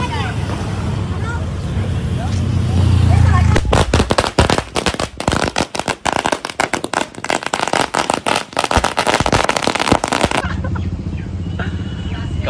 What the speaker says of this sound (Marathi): कसला आवाज तरी आहे सुतली बॉम्बचा